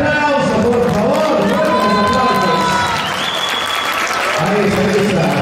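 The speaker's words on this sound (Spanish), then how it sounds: "recibimos con un fuerte aplauso, por favor" A school audience at Colegio Cristina Prado gives sustained, loud applause, with crowd noise and voices mixed into the clapping throughout.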